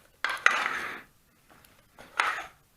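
Scraping of a utensil against a metal saucepan while stirring melting chocolate, in two short bursts, close by and fairly quiet, with no talking.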